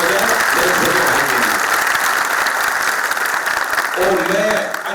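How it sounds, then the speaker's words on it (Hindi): Enthusiastic applause from a packed hall at a poetry recital honoring martyrs, a continuous dense roar of hands with a few voices murmuring beneath, tapering at the end. "मैं चाहता हूं सारा सदन एक बार जोरदार तालियां बजाए"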